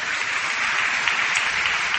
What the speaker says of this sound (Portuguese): Eu queria que você desse uma salva de palmas para essas pessoas.